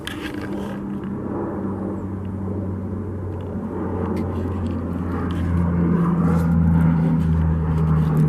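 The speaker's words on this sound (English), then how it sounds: "Don't mind that loud ass airplane above me." An airplane flies overhead, a broad low rumble with a steady droning tone that swells gradually louder across the clip.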